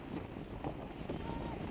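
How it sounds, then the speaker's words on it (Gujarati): Strong wind blows across a sandy seashore, a continuous roaring buffet of broadband noise hitting the microphone with faint surf underneath. "પવન જોરદાર છે, રેતી છે"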